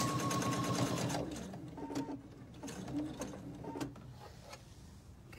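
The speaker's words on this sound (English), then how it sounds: "So because we've got this overlap, we just sew the pillow all the way around." A Husqvarna Viking Sapphire sewing machine stitches around the edge of a pillow, running in a steady fast whir, then slowing into short bursts and pauses near the end, close and clear with no talking.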